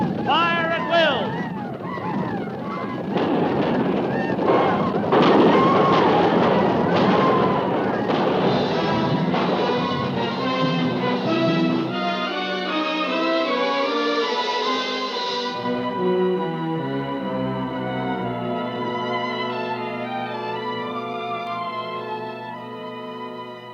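Gunfire effects in an old-time radio western drama set at a frontier fort form a loud, chaotic volley of shots and blasts under shouted commands, then fade into a sustained musical score.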